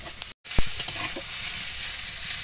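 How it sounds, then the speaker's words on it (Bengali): Small chuno fish cooked with raw tomato sizzle in a pan while being stirred gently, giving a steady frying hiss with light scrapes and one brief silent dropout. "মাছটা দিয়ে খুব জোরে নাড়া যাবে না হালকা করে নাড়তে হবে যাতে মাছগুলো গোটা গোটা থাকে"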